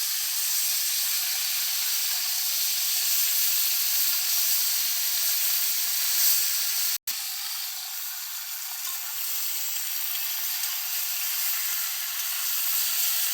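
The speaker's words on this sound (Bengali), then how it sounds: "মাংসগুলো ভাজা কষা হয়ে গেছে।" Meat fries and is stirred in a pan, giving a steady high sizzle and hiss close by, broken by a momentary sharp cut near the middle before the sizzling carries on; no one talks.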